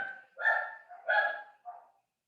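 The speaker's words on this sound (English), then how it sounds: "my dogs are at it again" Household dogs barking indoors, three muffled woofs in quick succession, fairly faint and somewhat distant, followed by quiet.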